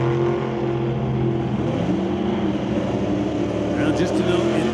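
A Camaro drag racing car idles and rumbles loudly at the strip, a steady engine drone continuing throughout with a brief higher sound near the end.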